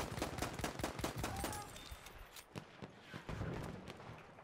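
Rapid automatic gunfire crackles in dense bursts in the Battlefield war game, loud and continuous for the first two seconds, then sparser shots and distant reports follow.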